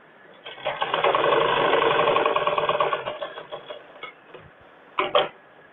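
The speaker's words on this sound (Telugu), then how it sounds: "మళ్ళీ డబల్ స్టిచ్ చేసుకుందాం దీని మీద." Sewing machine running a double stitch line on a blouse, a steady whirring burst for about three seconds, then short stop-start runs with a brief final spurt, close and fairly loud with no talk.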